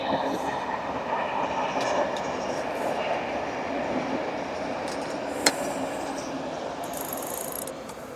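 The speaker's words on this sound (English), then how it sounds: "let's wait for this train to pass." A train passes close beside an angling spot, a steady loud rumble of rolling wagons with a sharp click partway through and faint squealing near the end.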